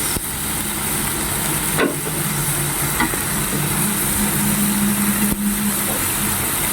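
Ring onions fry loudly in a hot pan as they are stirred, with a dense, constant sizzle and occasional scraping knocks from the utensil close by.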